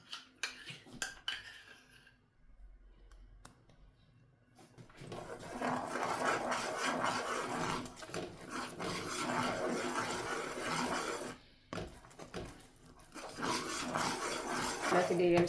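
Jaggery melted in a pan with a spoonful of ghee is stirred hard, giving continuous scraping and clinking of a spoon against metal, close and steady.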